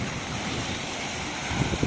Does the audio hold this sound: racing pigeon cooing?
no